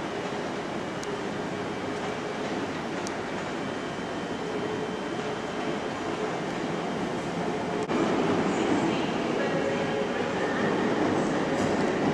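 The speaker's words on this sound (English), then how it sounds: "coming in now is a London Overground service from goodness knows where" A London Overground train pulls into London Liverpool Street station, giving a steady mechanical rumble with faint squeals that builds slightly near the end, heard from the platform amid station noise.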